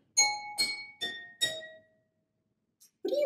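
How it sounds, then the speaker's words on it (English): A pencil gently tapping water-filled drinking glasses, played like a glass xylophone: four clear ringing tones in a row, each sustaining briefly, then a pause and a softer clink before another strike. "And now make sure to tap the glasses gently."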